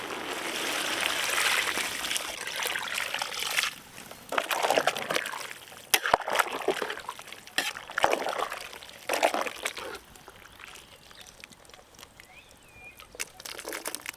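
Water poured and sloshed into a cooking pot for boti (goat tripe) gravy, with irregular bursts of trickling and splashing that rise and fade over several seconds before tapering off.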